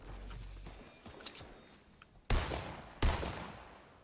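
Fortnite gunfire from a tower above: two loud, sharp shots stand out near the end, preceded by fainter distant pops and scattered clicks.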